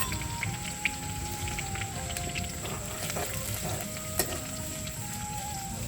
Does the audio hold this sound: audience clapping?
no